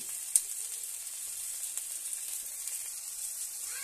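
Ginger paste fries in a pan for a yardlong bean, lentil nugget and potato curry. A soft, even high sizzle runs throughout with one brief click near the start and no voices.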